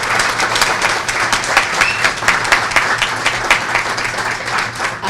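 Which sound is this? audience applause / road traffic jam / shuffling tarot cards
audience applause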